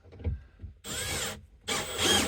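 A power drill drives screws through a metal bar, bolt and board into a caravan wall during a solar system upgrade, two loud close whirring bursts separated by a short pause, with brief rustling beforehand.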